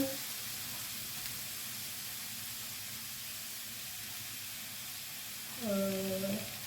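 Tomatoes sizzling in a frying pan while an aubergine dish is cooked, a soft, steady hiss of frying that continues throughout, with a brief voice near the end.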